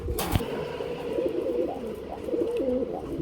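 A racer pigeon coos steadily in low, rolling, warbling phrases, close and fairly loud, with a sharp knock near the start.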